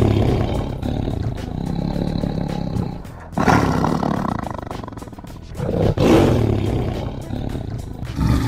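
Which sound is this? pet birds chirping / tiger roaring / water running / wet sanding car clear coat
tiger roaring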